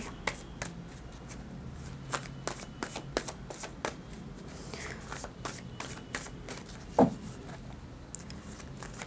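Tarot cards are shuffled by hand nearby, making a steady series of soft, crisp flicks and riffles with one sharper snap partway through.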